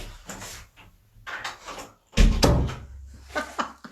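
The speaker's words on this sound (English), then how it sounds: "It's knocking right on the door." Knocking on a door heard close by as a few dull, uneven thuds and one heavier bang, with quiet shuffling around them and no talk.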